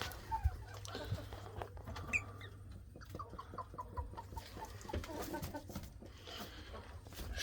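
A Brahma mixed with Jubilee Orpington hen clucks softly in short, irregular bursts inside a coop, close and fairly quiet amid faint rustling, with no talking.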